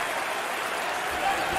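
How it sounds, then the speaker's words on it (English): Steady dense roar of a crowd in a basketball arena during a college conference championship game, a continuous wash of noise that swells slightly toward the end, with a commentator's voice faintly under it. "the crowd is thunderous."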